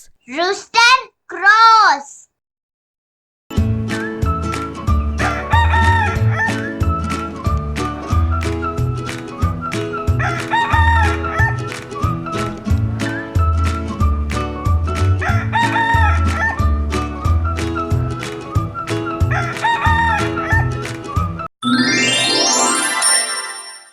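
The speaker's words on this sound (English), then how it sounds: "Rooster crows." A rooster gives one loud, close crow at the very start, followed by a long stretch of bouncy children's music and a rising electronic sweep at the end.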